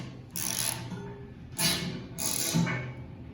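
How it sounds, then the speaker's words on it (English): A bolt is tightened with a 9/16 inch wrench and socket during a round wheel and ratchet bar install, three close ratcheting, rasping strokes in slow succession with short pauses between them. "Take a 9/16 inch wrench and a 9/16 inch socket, tighten it"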